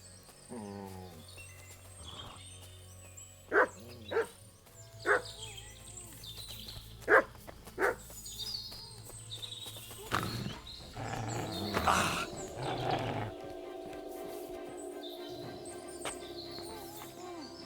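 A dog named Bristly barks in Kingdom Come: Deliverance 2, about eight sharp, evenly spaced woofs close by over game ambience with birdsong, followed by a louder scuffle of game noise.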